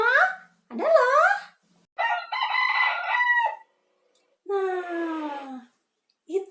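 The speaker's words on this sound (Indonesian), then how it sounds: "Itu suara ayam" A rooster crows four times in a row, loud and close, each call rising and falling with brief silent gaps between them.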